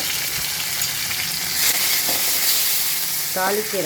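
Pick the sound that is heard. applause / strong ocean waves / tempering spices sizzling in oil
tempering spices sizzling in oil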